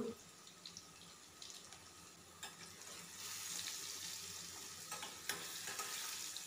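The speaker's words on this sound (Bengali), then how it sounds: "আলুটা দিয়ে দিয়েছি আর লবণ হলুদ দিয়ে আলুটা আমি এবার খুব ভালো করে ভেজে নেব" Potato pieces fry in hot oil with salt and turmeric, giving a steady, faint sizzle and crackle that swells slightly midway, with no voices.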